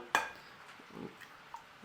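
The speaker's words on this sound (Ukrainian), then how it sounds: "одразу викладаємо картоплю сюди до цибулі і на великому поки вогні тримаємо і будемо перемішувати" Potatoes and onion frying in a pan over high heat while being stirred, with a sharp utensil scrape or clink near the start followed by soft, quiet scraping and faint sizzling.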